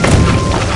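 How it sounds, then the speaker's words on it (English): A mortar bomb explodes in the video game Incursion, a loud, dense, low boom that fills the whole short moment with crunching rumble and no gap or voice. "Eat mortar! These bombs for you!"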